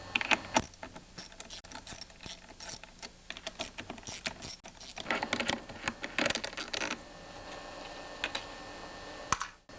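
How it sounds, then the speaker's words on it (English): A 1/4 inch drive ratchet with a deep 5/16 socket removes two nuts on a Stihl 028 chainsaw carburetor, giving close, rapid clicking bursts in several runs with brief pauses and no talk. "What you're going to need now is a deep 5/16 socket on a 1/4 inch drive ratchet. And now remove these two nuts."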